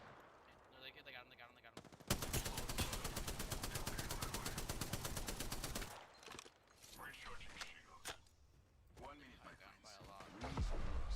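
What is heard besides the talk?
gunfire in the video game Apex Legends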